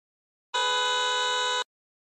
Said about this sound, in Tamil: வெளியில யாரோ ஹார்ன் அடிக்கிற சத்தம் கேக்குது